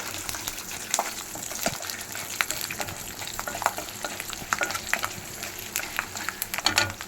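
Garlic sautés in a pan with a moderate crackling sizzle and scattered sharp pops and spatula scrapes, close and steady, with no voice.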